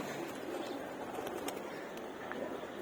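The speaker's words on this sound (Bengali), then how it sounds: "এই একটা কবুতর উড়া নামতেছে" Pigeons at a rooftop loft coo softly under steady background noise, with a few faint wing flutters as the birds fly and land.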